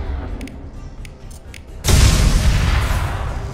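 In the video game Mass Effect 2, an overload power sets off stacked containers: a few faint clicks and thumps, then a sudden loud blast that rolls into a sustained roaring rumble.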